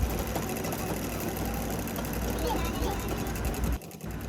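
A sewing machine stitches blouse cloth in a fast continuous whir that stops briefly near the end, with a voice talking over it.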